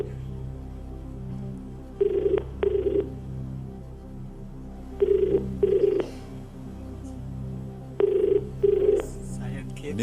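A telephone call being placed to a contestant's father on the Hindi quiz show KBC rings in three evenly spaced double bursts, clear and close over a low background hum.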